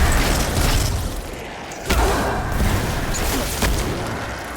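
Explosions burst from defeated enemies in Destiny 2 on PC, with a sharp boom near the two-second mark over a dense, continuous wash of gunfire and combat noise.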